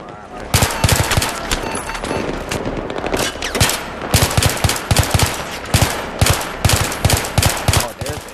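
Dense, continuous gunfire from the video game Battlefield 3: rapid automatic bursts and sharp shots crowd one another without letup, loud and close throughout.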